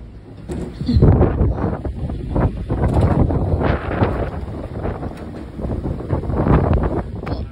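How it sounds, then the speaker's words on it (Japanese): Strong wind buffets the microphone outdoors at a Japanese seaside resort, a loud continuous roar with rumbling gusts that rise and fall throughout and no clear voices. "So, ang lakas ng hangin, guys."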